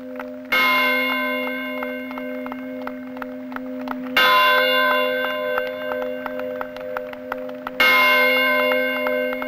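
Ship bells clang during a naval fleet review for the US bicentennial, three loud strikes spaced evenly, each ringing out and decaying slowly over a steady tone.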